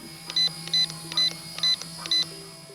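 An RC helicopter transmitter for an RTR Hobby HC-1 1:48 Huey gives five evenly spaced electronic trim beeps at center position, clear and close over a faint steady hum.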